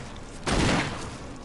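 A single muffled gunshot fired at a monster in a survival-horror game set in the Arklay Mountains, one soft boom rising over a low ambient hum and fading quickly.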